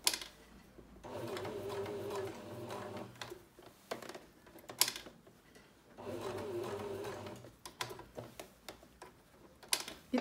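A sewing machine stitches a pocket onto a vest in close, steady bursts of running with short pauses and soft handling noises between them; no one speaks.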